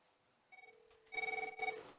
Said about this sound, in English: We have the phone dialing.